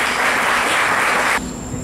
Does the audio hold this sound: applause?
yes